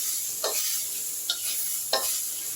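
Masoor lentils frying in a pan with salt, turmeric and spices give a steady close sizzle, broken by three brief scraping stirs of a spoon at even intervals.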